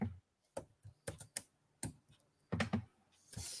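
Slow, hesitant typing on a computer keyboard, with scattered clusters of clacky keystrokes separated by pauses, close and fairly quiet.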